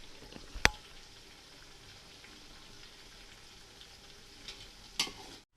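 Mutton cooks in a pot with a faint, even sizzle, broken by two sharp clicks from a stirring spoon, one near the start and one near the end.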